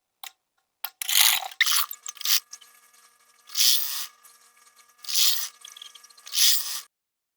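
A sewing machine stitches crinoline onto an organza sleeve in several short whirring bursts, close and clear, separated by quiet pauses.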